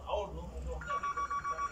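A mobile phone rings with a repeating electronic ringtone in short regular pulses, following brief background sound at close range.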